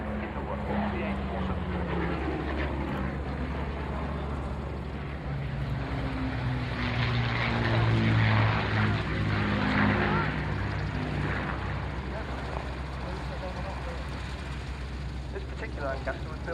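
A Lancaster propeller aircraft drones steadily and loudly, its engine note swelling and then easing, with someone talking over it throughout.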